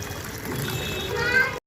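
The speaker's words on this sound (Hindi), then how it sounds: "ये पानी भर रहा है" Water pours steadily into a tub for washing clothes, a close, continuous rushing flow that cuts off abruptly, with a voice faintly over it.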